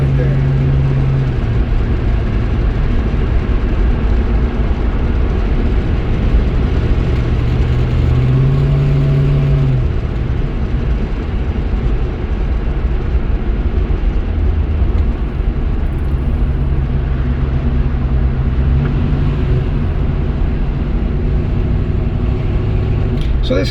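A Chevelle with a 350 small block V8 rumbles loudly and steadily, with a deep low-end drone and a few rises in pitch as it revs. Someone talks over the engine in places.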